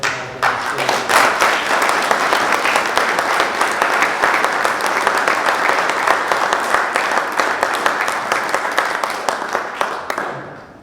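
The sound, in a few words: audience applause at a meeting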